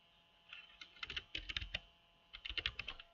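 Someone types HTML code on a computer keyboard in two quick bursts of clicking keystrokes with a short pause between them. The keys are close and crisp over a quiet background.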